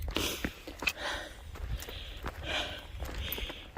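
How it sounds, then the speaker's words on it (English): Several short, breathy sniffles repeat over a quiet outdoor background on the Appalachian Trail near Blood Mountain, with faint footstep-like thuds underneath. "sorry about sniffling in your ears"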